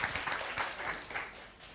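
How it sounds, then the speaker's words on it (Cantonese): A church congregation claps briefly, a short burst of dense, even applause filling the room. "為菲律賓，我哋去拍掌。"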